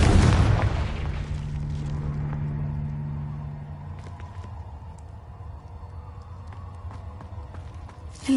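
A booming blast from the Confringo fire spell in Hogwarts Legacy erupts loudly at the start, then rumbles and fades into a low droning hum with scattered faint clicks and game ambience.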